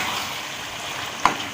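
Dhaba-style daal mash frying steadily in a pan as cumin and crushed black pepper are stirred in, a continuous close sizzle with one brief clink of the spoon.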